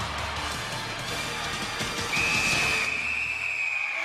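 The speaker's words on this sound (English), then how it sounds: "That whistle, music to Weininger's ears. It's all over" A referee's whistle ends a Gladiators bout with one long, steady, piercing blast, heard over a loud arena crowd roar.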